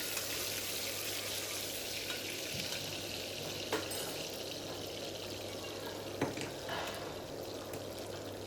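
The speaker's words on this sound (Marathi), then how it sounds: "आता तोही छानपैकी आपल्याला तेलात परतून घ्यायचा आहे" Lengthwise-sliced onion sautéing in oil, a faint, steady frying hiss with occasional soft clicks of a spoon against the pot.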